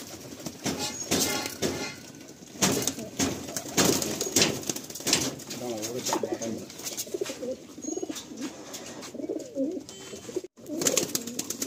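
Pigeons kept for sale in Kolkata coo repeatedly in soft, throaty bursts close by, mixed with rustling, scuffling and brief wing flaps, and a faint voice now and then.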